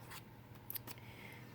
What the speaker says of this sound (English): You cut it in half again